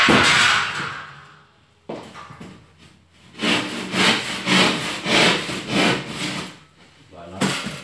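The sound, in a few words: sawing wood with a hand saw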